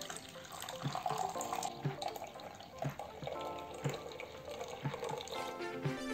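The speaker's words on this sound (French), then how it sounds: "Tu verses la Guinness sur la pâte." Guinness beer pours onto cake batter in a bowl, a gentle liquid trickle and splash at moderate level, with soft background music underneath.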